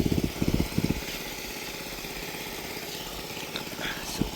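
An engine-driven water pump idles in a steady, mid-pitched drone, with a few low thumps early on, heard outdoors near a rice field and kept going without speech.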